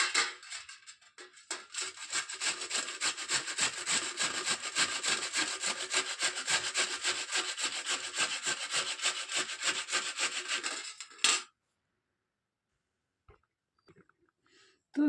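Beetroot is rubbed by hand against a grater in rapid, rhythmic scraping strokes for about ten seconds, close and dense, then it stops abruptly, leaving near silence with a few small knocks.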